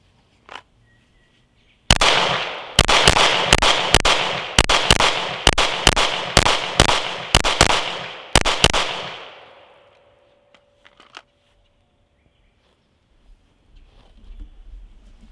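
Rapid string of about eleven sharp, loud gunshots from a firearm at a shooting range, fired in quick irregular succession over several seconds, each crack ringing out briefly, followed by near silence with a few faint clicks.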